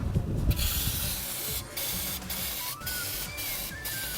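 A Komeri foam gun held upside down sprays with a steady, close hiss that stutters into several short breaks and sputters, loud and alone with no talk.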